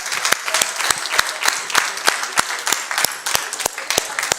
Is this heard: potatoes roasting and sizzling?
no